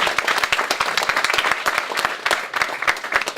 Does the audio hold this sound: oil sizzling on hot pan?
no